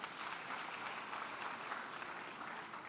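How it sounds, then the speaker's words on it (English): Audience applause filling a gala evening hall, a steady dense wash of many hands clapping at once, sustained and even throughout with no voices standing out. "Give yourselves a round of applause."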